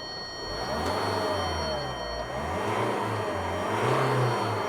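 2003 Nissan X-Trail T30 with a 2.2 dCi diesel, being revved after an accelerator fault code was cleared: a close, steady engine drone that rises and falls in pitch through several short revs.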